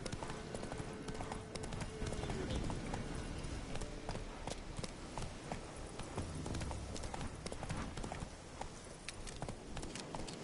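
A horse gallops at full speed in The Witcher 3, its hooves pounding in a dense, rapid, continuous drumming that stays loud and unbroken.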